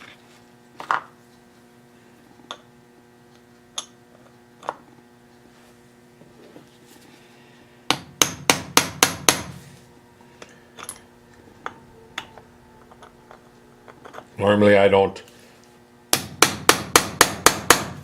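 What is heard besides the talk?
hammering transfer punches into wood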